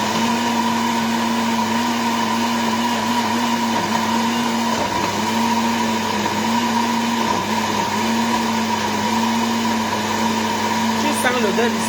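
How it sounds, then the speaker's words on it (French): A kitchen blender purees sanga ingredients, onion and palm nut pulp, running loud and steady the whole time with a constant motor whine. "Et je passe tout ça au mixeur."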